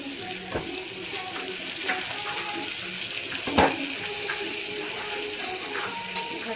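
Tomatoes sauté in a pan for tomato rice, a constant hissing sizzle with occasional soft clinks of a spatula and one sharper knock midway.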